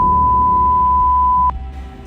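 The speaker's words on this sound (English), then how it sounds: "put it in airplane mode, and it was still fucking beeping" A phone emits a single steady electronic beep that holds for about a second and a half, then stops with a faint click, over a low background hum.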